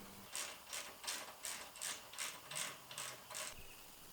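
Steady run of about nine crisp ratchet clicks, evenly spaced, as a bolt is driven in to secure a winch plate on a Jeep TJ; close, fairly quiet, with no talk.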